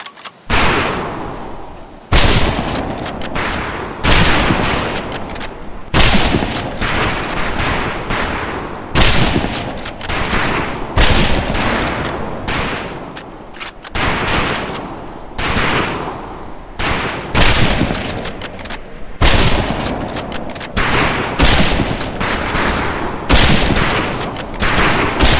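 Rifles fire on a firing range in the video game Medal of Honor Pacific Assault, with many loud, sharp shots cracking in quick, irregular succession and often overlapping, with no talk.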